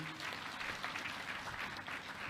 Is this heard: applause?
yes